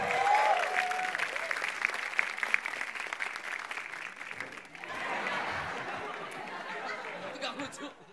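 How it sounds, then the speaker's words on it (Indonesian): Crowd at a stand-up comedy open mic applauding a comedian, a sustained round of clapping mixed with chatter and some laughter, ongoing through the clip with voices underneath. "Kita beri tepuk tangan yang meriah untuk Rico Ceper."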